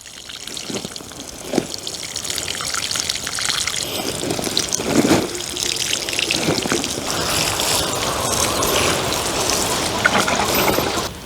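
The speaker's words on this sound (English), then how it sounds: "So now we'll pour our fertilizer." Liquid plant fertilizer is poured out in a steady trickling stream that runs continuously for several seconds, with a few brief splashes and knocks along the way and no talking.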